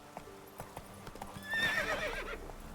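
Hooves of the horse Roach clip-clop in The Witcher 3 video game, a quiet, steady gait with a short neigh partway through, heard clearly with no talking.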